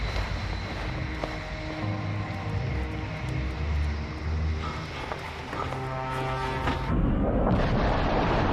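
Jupiter C rocket roaring on its maiden flight launch, a dense continuous rumble with shifting tonal whine, steady and loud throughout, growing harsher and broader near the end.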